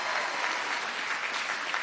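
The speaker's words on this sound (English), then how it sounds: "Why don't we give your president a big round of applause here for the work that she's done." Steady applause from a commencement audience honoring the college president, dense and sustained clapping filling the whole moment with no speech over it.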